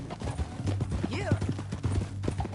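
Horse hooves clop in a fast, steady rhythm while riding across rough canyon ground in Red Dead Redemption 2, close and continuous, with a faint whinny and a voice mixed in.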